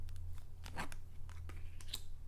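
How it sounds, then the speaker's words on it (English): Tarot cards shuffled by hand, soft papery riffles and slides in a few short bursts, close and quiet with no talking. "I don't know if you can tell from me shuffling"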